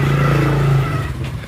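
Scooter engine buzzing close by with a steady droning tone that fades slightly as it moves past, loud and brief, no talking.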